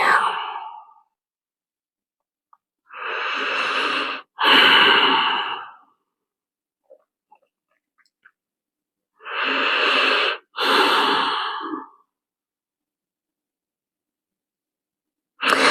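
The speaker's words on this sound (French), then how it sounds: "Expire." Slow, loud breaths are taken during a hatha yoga session while resting in child's pose: two pairs of long airy breaths, each a few seconds long and separated by silence, close to the microphone.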